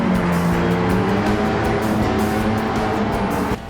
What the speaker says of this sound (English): The Ford Focus Gr.B is still pushing forward with relentless power